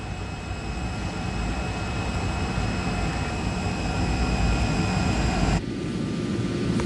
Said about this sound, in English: the plane left the gate just before 2 o'clock in the morning